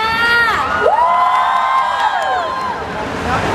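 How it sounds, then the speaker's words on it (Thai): A loud crowd at a motor expo shrieks and cheers together, high sustained screams rising and falling, close and continuous for several seconds. "ขอเสียงดังๆ เสียงกรี๊ดดังๆให้กับพี่มาดหน่อยค่ะ"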